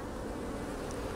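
Honeybees buzz in a steady, close drone around a beekeeper's bare hands at the hive, a continuous hum with no talking.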